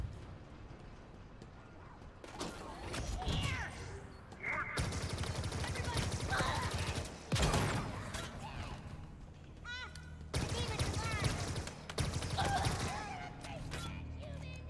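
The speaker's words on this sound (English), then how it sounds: "Plasma gun's not bad." Plasma gun fire in the Halo Infinite campaign, crackling bursts of shots in several clusters amid combat noise, with voices talking in between.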